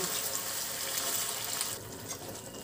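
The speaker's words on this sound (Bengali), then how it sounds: "এখন দিয়ে দেব জল, দিয়ে দেবো বাটিটার মধ্যে একটু জল নিয়ে দিয়ে দিচ্ছি" Water is poured from a small bowl into a simmering masala for a dhaba-style palak egg curry, a brief, soft, steady splashing pour heard close and quiet, tailing off near the end.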